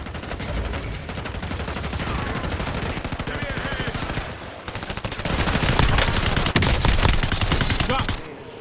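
Rapid automatic gunfire crackles through a video game firefight in dense, overlapping bursts, steady at first and then growing louder and more intense over the second half, with no pauses.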